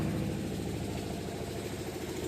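A tractor engine idles steadily, its low, even rumble running unbroken and fairly loud at night, with no voices over it.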